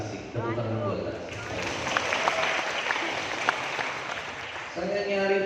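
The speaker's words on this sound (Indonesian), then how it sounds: "Tepuk tangan buat Tasik." A seated audience at a talk applauds for people from Tasik, a swell of clapping rising and fading across several seconds, framed by someone speaking before and after the applause.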